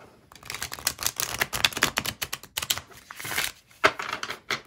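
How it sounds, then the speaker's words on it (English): Rapid fluttering clicks of tarot cards being riffle shuffled and bridged, a dense crackling cascade with a few sharper snaps, close up. "riffle and bridge, which is my preferred method of shuffling"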